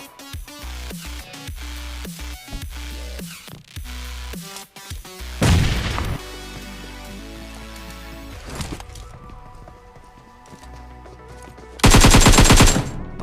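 Gunfire from the mobile battle royale game PUBG Mobile, with an M416 rifle: rapid automatic bursts early on, then louder dense volleys with long pauses between them, plus game sound effects.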